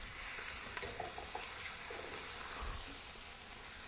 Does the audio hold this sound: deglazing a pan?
yes